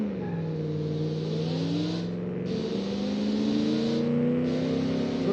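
A video game car's engine revs hard through a forceful launch, its rising drone climbing and shifting pitch steadily for several seconds, loud and continuous with no talk over it.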